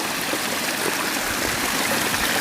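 Clear stream water flows steadily near a waterfall in the interior of Subang, a broad, even rush and babble that stays close and constant with no voices.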